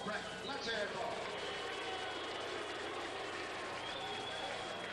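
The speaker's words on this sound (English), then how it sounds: "Have a nice round of applause for Harold the Hammer Volbrecht." A boxing crowd applauds Harold "the Hammer" Volbrecht after his bout with Mark Breland, scattered clapping and crowd murmur sustained at moderate distance under a ringside announcer's voice.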